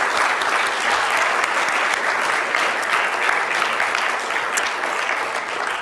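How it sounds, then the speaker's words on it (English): Steady, dense audience applause at a climate justice teach-in held at UCSB, a full crowd clapping loudly and continuously without pause. "So let's give a little round of applause."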